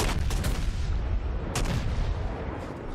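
Warship guns fire in World of Warships, the destroyer Mahan battling New Mexico and Colorado battleships, with heavy booming salvos at about 0 and 1.5 seconds rising over a constant dense rumble of naval combat.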